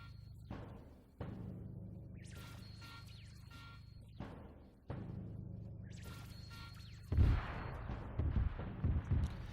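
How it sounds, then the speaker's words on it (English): Artillery barrage landing in a war video game, a cluster of shells hitting on and around a truck: several sharp booming impacts with rumbling decay, the heaviest burst of blasts coming near the end. "A nice cluster of clustered barrage, landing right on top of that truck"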